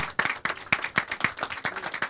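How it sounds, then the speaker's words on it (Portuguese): A church congregation applauds the Lord during a worship service, with bursts of hand clapping in an uneven rhythm, several strong claps standing out near and distinct. "Quero que vocês aplaudam o Senhor."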